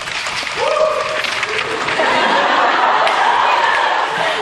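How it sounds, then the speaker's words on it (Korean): A male student cheers amid a room of students, rising over crowd chatter and scattered laughter with a sustained, fairly loud vocal whoop in the first seconds. "한 남학생의 환호 소리에"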